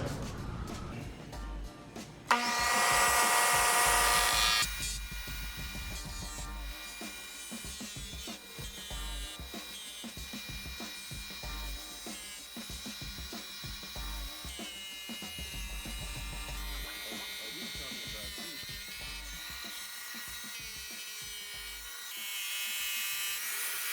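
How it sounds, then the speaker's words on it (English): A 10-inch tile saw making a miter cut through a 12-inch porcelain tile laid glaze side up: a loud, steady whining grind that runs almost unbroken, with a brief sharp burst near the start and a rise again toward the end. "Miter cut a 12-inch porcelain tile Right side up with the glaze on the top."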